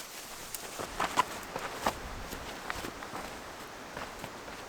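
Footsteps crunch along a trail on a fall backpacking trip on Boulder Mountain, heading down toward the water: a steady series of light, uneven steps over a soft, windy outdoor background.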